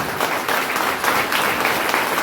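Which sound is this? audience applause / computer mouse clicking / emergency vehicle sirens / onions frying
audience applause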